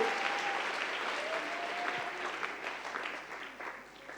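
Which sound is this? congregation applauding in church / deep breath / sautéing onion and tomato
congregation applauding in church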